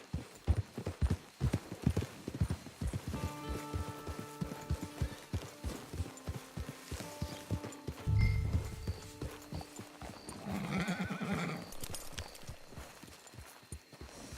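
Horse hooves clip-clop steadily in the video game Red Dead Redemption Online, a brisk rhythm of close hoofbeats with a brief snort and low tonal game sounds underneath.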